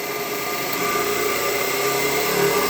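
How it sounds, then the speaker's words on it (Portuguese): DC motor in an electrical machines lab speeding up after terminal D is released; a loud, steady whirring hum with a gradual rise in pitch, no speech. "vou soltar o terminal D, o motor vai tender a disparar"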